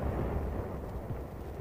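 A barrage from 4.2 inch heavy mortars rumbles in old Korean War newsreel sound: a dense, continuous low roar of booming blasts, muffled and heavy, filling the whole stretch with no talk.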